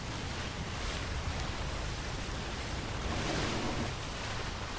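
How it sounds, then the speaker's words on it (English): Steady ambient water wash from a video game, a dense, even rushing like surf or flowing water, continuous and moderately loud with no voices over it. "That's like most of what I hear is just the water."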